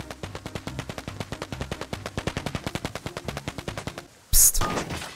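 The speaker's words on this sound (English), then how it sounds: "let me go ahead and get some firecrackers, dude" Firecrackers set off in the Rust video game crackle as a rapid, even string of loud pops lasting several seconds, followed by a short pause and then a single heavier burst of noise.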